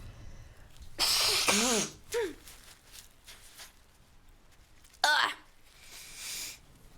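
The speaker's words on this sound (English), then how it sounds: "sorry for the disgusting noises. Let me like blow my nose." Someone blows their nose in a few loud, honking bursts separated by short pauses, with quieter snuffling in between.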